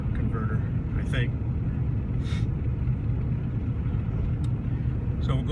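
A car shaking from a torque converter problem gives off a steady low rumble and drone from inside the cabin, continuous and close, with a few faint higher clicks and rattles.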